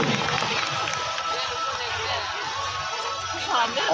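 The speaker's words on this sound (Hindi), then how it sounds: "जोरदार तालियां तेज के लिए" Large crowd applauding and cheering at a Republic Day stadium event in Sumant Moolgaokar Stadium, a dense continuous wash of clapping and crowd noise filling the whole stretch at steady loudness.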